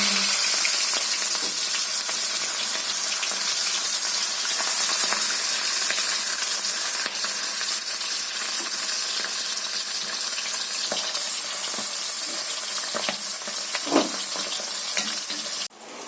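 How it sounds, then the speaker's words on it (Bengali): Bata fish fry in hot oil with a loud, dense, continuous sizzle and crackle, occasional pops and a stir or scrape near the end. "তেলটা গরম হয়ে গেছে, মাছ দিয়ে দিচ্ছি।"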